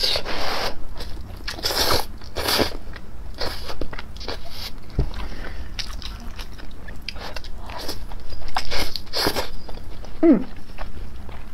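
Loud, close chewing of fried noodles for ASMR, with wet crunches, bites and scraping sounds repeating irregularly throughout, and no talk over it.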